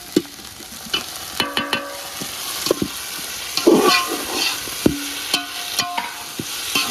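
Vegetables and tomato for veg pulao are stirred and frying in a pan, with a steady sizzle under repeated scraping and clinking of a spoon against the metal.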